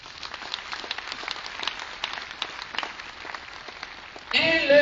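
A crowd at a stadium gospel campaign applauds with steady, dense clapping and scattered cheers, a spoken voice rising over it at the end.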